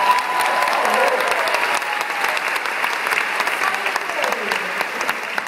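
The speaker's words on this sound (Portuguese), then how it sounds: "Você não vai aplaudir o Agra?" A theatre audience applauds during a musical about Chacrinha, loud continuous clapping from a crowd with a few voices mixed in underneath.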